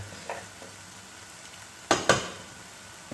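Pancetta frying in a pan over a very low flame, a soft, quiet sizzle with a couple of sharp clicks or stirring knocks near the end.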